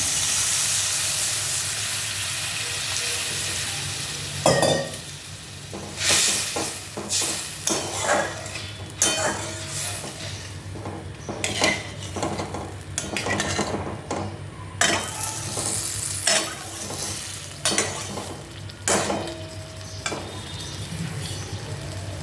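Fish curry (machher jhol) in a pan, thinned with a little water, hisses and steams with a steady bed of simmering noise while a utensil scrapes and clinks against the pot in irregular bursts, close and fairly loud, with no talking.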